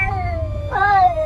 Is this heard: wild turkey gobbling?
no